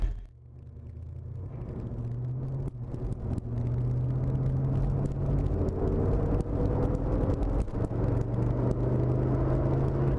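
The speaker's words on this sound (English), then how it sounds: "Great sounding exhaust." The V8 engine of a restored 1966 Chevrolet Suburban rumbles while driving, its low exhaust note rising and falling with acceleration, loud and close over road noise.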